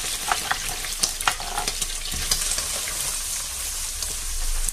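Sliced mushrooms and garlic frying in a pan, giving a continuous crackling, spattering sizzle with scattered pops and occasional stirring clinks, fairly loud and close with no talk.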